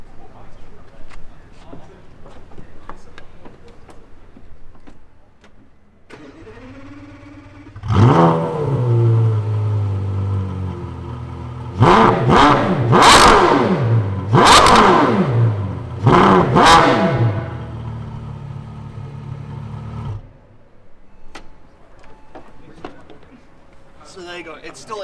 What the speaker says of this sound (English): I'm going to show you what the new exhaust sounds like.